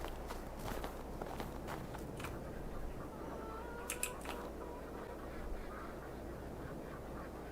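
A duck in the farming video game Farming Simulator 22 quacks a few times amid a snowy winter scene, brief and moderately close, over steady crunching footsteps and a constant low ambient hum.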